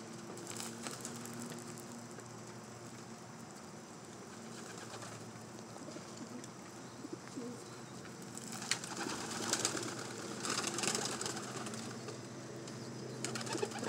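Racing homer pigeons in a loft coo softly and steadily, with occasional wing flutters and shuffling; a continuous low, close murmur of several birds, no talking.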